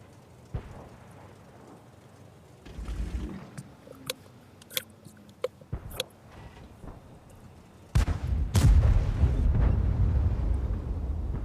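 A tank cannon from a German VK 30.01 P medium tank in World of Tanks fires with a heavy booming blast near the end, rumbling on loudly after scattered smaller thuds and clicks earlier.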